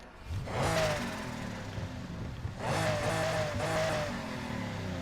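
A Lamborghini Countach engine in Need for Speed Heat roars and revs in two rising surges, loud and close, with a synthetic, game-like quality and no talking.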